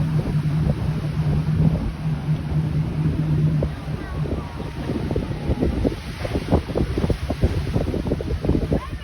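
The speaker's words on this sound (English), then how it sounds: "The pier shaking from the waves." Ocean waves wash against the pier at Seal Beach at sunset, a rumbling surf with wind buffeting the microphone, while someone talks over it.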